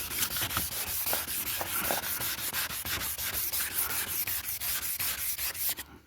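A car headlight is sanded by hand with sandpaper, producing quick rhythmic back-and-forth rasping strokes, close and continuous, with no talking.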